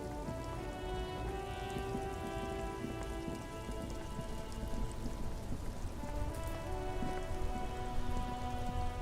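Rain falling steadily in Disco Elysium, a dense, even patter on hard surfaces beneath sustained tonal ambient music, moderately loud and continuous with no voices.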